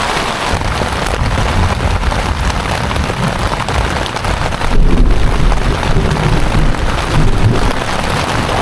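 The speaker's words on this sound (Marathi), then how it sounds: "तर मंडळी हा बघा पाऊस आत्ता सव्वा एक झाला आहे तर एवढा जोरात पाऊस पडतो ना" Steady, heavy monsoon rain roars close by at Hadsar Fort during a camping trip, dense and continuous, with a low rumble swelling midway that could be distant thunder.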